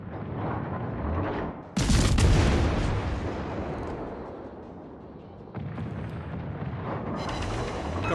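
Naval guns fire in a World of Warships battle, with a loud, sudden boom around two seconds that rolls into a long rumbling decay. A second, softer blast follows later over a constant engine and sea-like drone.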